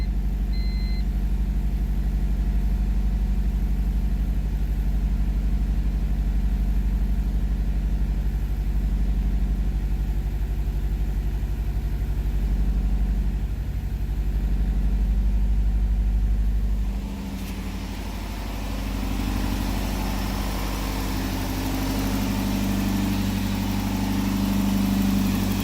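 A Honda Civic with an H22 engine idles slightly high, a steady low mechanical drone that shifts in tone about two-thirds through and then settles into a rougher, busier hum.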